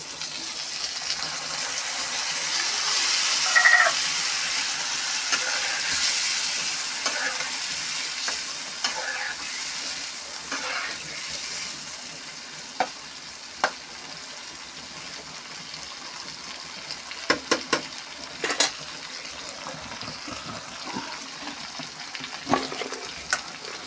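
Pointed gourd frying and being stirred with sesame seeds in a pan: a steady, close sizzle runs throughout, with scattered sharp clicks and scrapes of the utensil, no talking.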